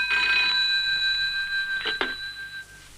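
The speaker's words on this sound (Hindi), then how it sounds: "ओहो, ये किसका फोन आ गया?" A telephone rings in a domestic setting, two bright electronic trill bursts with a short gap between them, close and clear with no speech over them.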